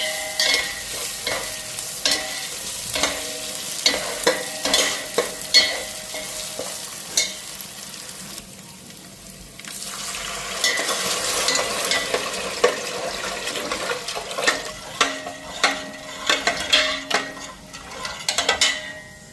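Spices and bay leaf frying in a pan, a close, continuous sizzle punctuated by repeated scraping and knocking stirs of a spatula, with a brief lull midway before the stirring resumes.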